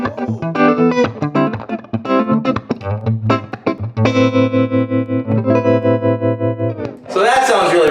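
Electric guitar played through a Swart AST Pro amplifier with smooth, tight distortion: chords and sustained notes ring out loud and close, with a brighter, noisier burst in the final second and no talking.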